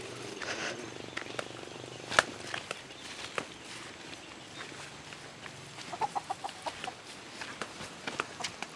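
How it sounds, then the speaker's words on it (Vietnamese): Chickens cluck at a Sapa homestay in northwest Vietnam, with sharp calls and a rapid series of short clucks over steady outdoor background noise, no talk. "Con gà."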